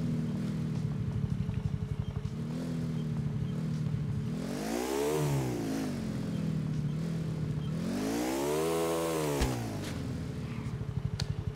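A motorcycle engine in GTA IV holds a steady idle, then revs up and down twice in long swelling sweeps, loud and close, with no talking.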